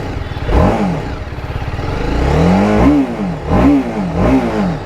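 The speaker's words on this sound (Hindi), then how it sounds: "अभी अपन जो है तुरंत बाइक को करेंगे ऑन एंड मैं आपको सुना देता हूँ इसका एग्जॉस्ट नोट" A TVS Apache RR 310 BS6 motorcycle starts up close by and settles into its exhaust note. Several sharp throttle blips follow, each rising and falling, loud and alone with no talking.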